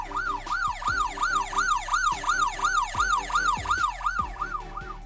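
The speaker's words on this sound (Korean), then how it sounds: "경찰 사이렌 소리가 들리게 됩니다" A Tobot C toy police car siren wails in a rapid repeating up-and-down cycle, loud and electronic, with faint clicks underneath.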